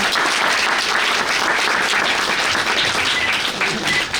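An audience at a National Voters Day event at a women's college claps continuously, a dense, loud and steady applause that fills the whole stretch with a slight swell and fade.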